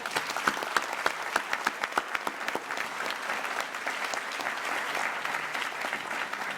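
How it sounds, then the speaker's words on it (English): An audience applauds an honoree at a black-and-gold school gala, a dense round of clapping that starts with distinct claps and builds into a steady, fairly close wash of applause with no voices over it. "one more round of applause"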